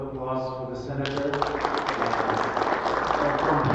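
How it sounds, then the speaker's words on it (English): Audience applause for a senator at a Colorado congressional candidate forum, dense clapping that rises after a spoken opening and carries steadily to the end, with a voice speaking over the start. "Round of applause for the senator."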